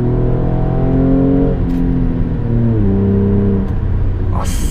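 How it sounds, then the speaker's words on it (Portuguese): A Hyundai Azera with a straight-pipe exhaust revving up close, a loud, continuous engine drone that shifts pitch up and down across the rev. "Uma delas vocês já estão vendo aí, que é o escape direto de novo na criança."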